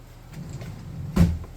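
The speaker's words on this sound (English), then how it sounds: "Grab one out of the drawer." A kitchen drawer is pulled open with a single short bump and slide partway through, fairly close and alone against quiet room tone.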